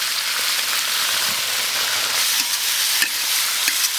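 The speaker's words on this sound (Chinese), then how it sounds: "来炒一下" Pork intestines stir-fry in a hot wok with soy sauce, a loud, dense, continuous sizzle with occasional scraping clicks from stirring.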